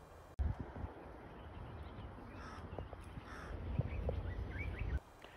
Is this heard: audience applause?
no